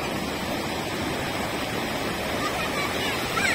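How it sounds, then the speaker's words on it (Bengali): River water pours through the lock gate of a dam on the Treyee River at Balurghat, a steady broadband rushing roar that continues without a break. "জল আসছে।"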